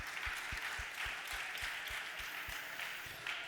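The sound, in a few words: soft audience applause at live event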